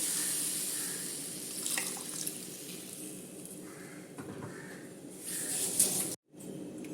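Tamarind water trickles and pours steadily into a vessel as the tamarind is squeezed by hand, with some soft splashing and handling noise, ending abruptly.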